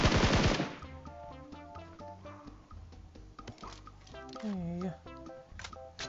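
Gunfire crackles in PUBG on the Livik map, beginning with a dense loud burst and followed by scattered quieter shots. Game sounds and voices chatter alongside the shooting.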